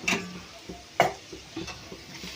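Onions fry in a pan with turmeric and salt while being stirred, giving a soft sizzle broken by a few distinct scraping clinks of a spoon against the pan, spaced irregularly and heard up close.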